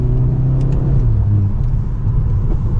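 Engine of a 2023 Mercedes-Benz C43 AMG 4MATIC sedan with a four-cylinder, heard from inside while driving: a steady, loud low drone that swells and settles slightly, with no talk over it.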